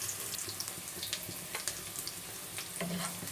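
Chopsuey ingredients sautéed in a pan, a soft steady sizzle with scattered light clinks and stirring taps throughout, fairly quiet and with no talking.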